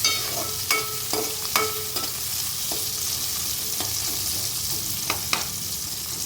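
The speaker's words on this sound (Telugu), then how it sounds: "వీటిని ఒక 2 మినిట్స్ ఫ్రై చేసుకుందాం." Onions fry in a pan for paneer masala curry, a steady close sizzle broken by sharp spoon-on-pan scrapes and taps as they are stirred, no talking.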